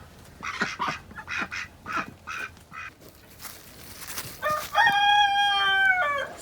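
Ducks and chickens call in a farmyard with a black drake among them: a run of quacks in the first half, then a rooster's drawn-out crow near the end, close and fairly loud with no talk.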